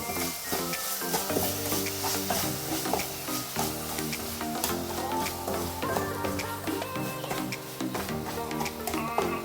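Sugar is stirred into a mango and oats payasam in a pot, producing a continuous soft scraping and bubbling stir under prominent background music throughout.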